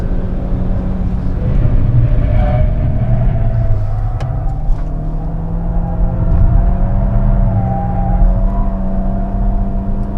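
A Skoda Fabia vRS accelerates at full power, its engine droning and rising in pitch with a steady growl and whir heard from inside the car.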